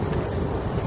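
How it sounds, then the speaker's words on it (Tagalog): Wind blows steadily outdoors on a humid day, a continuous rushing, buffeting noise close against the microphone, with no one speaking. "Buti na lang mahangin yan."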